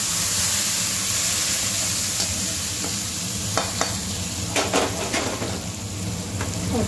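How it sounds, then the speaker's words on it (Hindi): Hot tadka sizzling as it is poured over Punjabi-style kadhi, a steady frying hiss with brief crackling bursts and some stirring clatter from the pan, close and fairly loud throughout. "इस तड़के को अपनी कढ़ी पर डाल देते हैं।"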